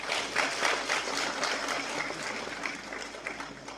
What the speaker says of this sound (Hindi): बड़ी देर से ताली बजी